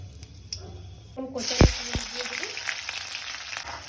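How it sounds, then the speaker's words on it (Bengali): Cinnamon, cardamom and cloves drop into hot oil for tempering, setting off a sudden loud sizzle with a sharp crackle or two, then a steady frying hiss that carries on nearby. "প্রথমে আমি একটু দিয়ে দিব দারচিনি, একটু এলাচ আর লবঙ্গ একটু দিয়ে দিব ফোড়নে"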